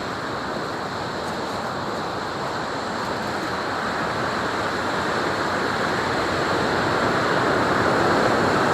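Water roars through the open gates of the Mallavaram dam on the Gundlakamma project near Ongole, a steady, loud, dense rush that holds constant and swells slightly toward the end, with no voices.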